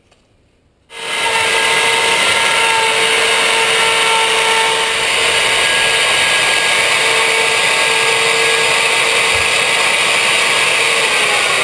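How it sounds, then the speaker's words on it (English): Router cutting aluminum on a teardrop trailer build, starting abruptly after a brief quiet moment into a loud, sustained high-pitched whine with a steady grinding edge that runs on unbroken. "I'm just going to do that with the router and with a file."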